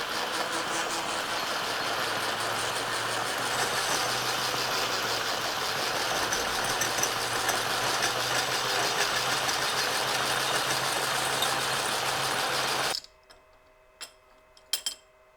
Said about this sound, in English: So we will be boring through it, and we will be boring a little over a 1/2 inch